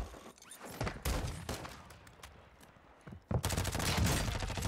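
Scattered gunshots in the Warzone battle royale game, a few sharp single cracks followed by denser bursts of fire, moderately loud with busy game ambience.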